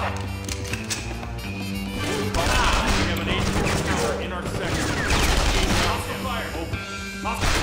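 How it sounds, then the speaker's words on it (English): Gunfire in the game CounterSpy: dense, rapid bursts of automatic shots and crackling impacts fill the scene loudly and continuously, with voices heard amid the firing. "Hostile fire."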